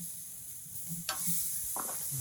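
Beef steaks sizzling on a grill after six minutes of searing, a steady close hiss with a brief louder flare of crackle partway through and another burst near the end.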